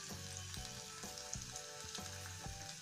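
Turmeric, coriander and red chilli powder masala with salt being fried in a pan for potato and cabbage curry, a soft steady sizzle with rhythmic stirring strokes about every half second, quiet and without talk.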